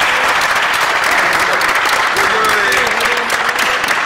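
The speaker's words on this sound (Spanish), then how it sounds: "Ahí sí yo creo que vemos un aplauso" Loud, dense applause from a television studio audience, a continuous burst of clapping with a faint voice or two showing through partway.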